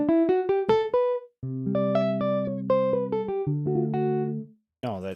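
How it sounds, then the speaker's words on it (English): Guitar sample from the 8Dio Soundpaint instrument heard on its own: a quick run of plucked notes, then sustained strummed chords, with short pauses between phrases and a brief burst at the end, close and clean. "When we listen to the guitar on its own, it sounds like this."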